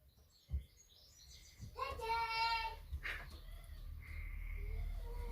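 A bird calls near a house roof, a few chirps and a harmonic tonal cry in the middle, faint and close, with a voice speaking briefly.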